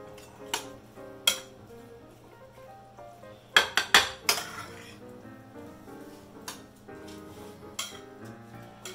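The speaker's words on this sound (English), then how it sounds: "Okay, so mix it." Lobster salad with mayonnaise, salt and pepper being mixed in a bowl, with sparse clinks and scrapes of a utensil against the dish, a few sharper knocks standing out over quiet kitchen background.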